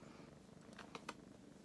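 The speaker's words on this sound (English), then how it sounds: "Oh, now you're purring." A pet cat purrs softly and steadily up close, a low continuous rumble with a couple of faint clicks.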